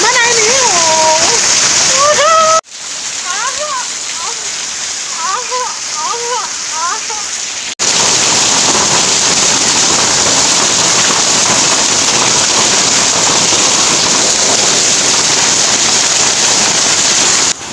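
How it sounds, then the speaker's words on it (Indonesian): Heavy rain pours down in a loud, steady hiss of drops splashing on surfaces, with a quieter stretch partway through where a voice talks. "aku udah menunggu si hujan ini selama 15 menit dan tidak berhenti juga ya kan, nggak kunjung reda"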